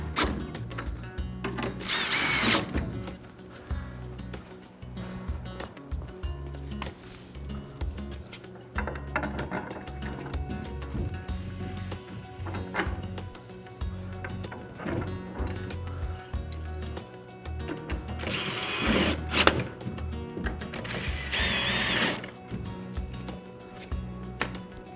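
Bolts are tightened on a raised garden box with a power tool, whirring bursts in short repeated runs separated by quieter handling clatter, close and fairly loud.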